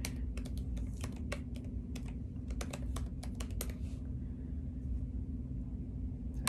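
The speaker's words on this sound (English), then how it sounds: "Type in the password." Password being typed on a computer keyboard, a quick run of close, crisp key clicks over a low steady hum, trailing off after about four seconds.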